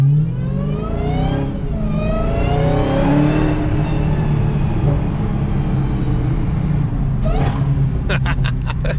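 A widebody Dodge Hellcat's supercharged engine revs hard, its whine climbing and falling in repeated sweeps over a deep, loud rumble, with a few sharp pops at the end.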